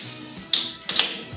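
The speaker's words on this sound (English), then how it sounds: "Right, now to crack open the can of Guinness." A can of Guinness is cracked open up close: a faint tap, then a sharp click and hiss of the ring pull, followed by a second quick snap and fizz.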